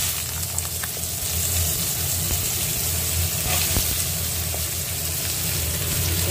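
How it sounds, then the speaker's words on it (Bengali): Pumpkin and eggplant sizzle steadily in hot oil tempered with spices, a loud continuous frying hiss that holds throughout without pause, with no talking. "আমি দিয়ে দেব এবার মিষ্টি কুমড়ো এবং বেগুন, ভালো করে কেটে ধুয়ে রাখা আছে।"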